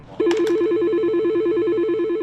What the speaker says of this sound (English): the phone is ringing nonstop